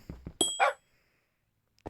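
A Minecraft dog gives a few short, sharp barks in close succession, followed by a brief pause and another quick yip near the end.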